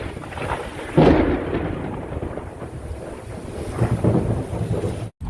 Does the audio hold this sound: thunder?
yes